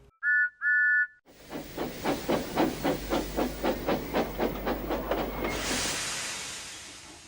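A cartoon steam train gives two short whistle blasts, then a chugging, rhythmic steam puffing that slows, ending in a long loud hiss of released steam.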